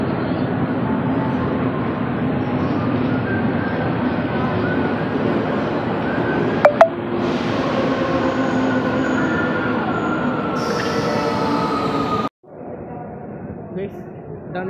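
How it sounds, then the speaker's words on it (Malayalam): A metro train runs at a station in Rome, rumbling steadily with a squeal of wheels or brakes, then a sudden drop to quiet. A voice talks over it. "ഇതാണ് മെട്രോ സ്റ്റേഷൻ"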